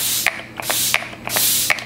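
Three quick hissing bursts of NYX Prime Set and Refresh setting spray, evenly spaced and close, each with a soft pump click, with no talk.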